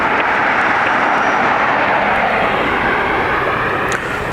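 Vueling airliner on its takeoff roll from Dublin Airport, a loud, steady broadband jet engine roar that holds evenly throughout with no pauses.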